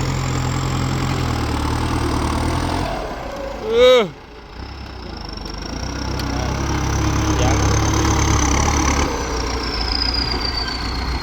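A bulldozer engine rumbles and idles steadily throughout while pushing soil, with a brief loud creaking, sweeping squeal midway before the droning continues.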